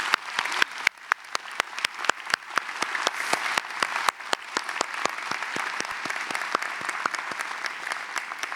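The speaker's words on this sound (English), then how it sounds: "please join me in applauding Dr. David Brown for all that he's done." A large audience at a master's commencement ceremony at CSU Chico applauds in dense, sustained clapping that fills the whole stretch with a steady roar and crisp individual claps.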